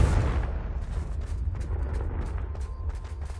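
A Confringo spell blast in Hogwarts Legacy: a loud, booming explosion at the start, followed by a rumbling, crackling tail that fades over several seconds.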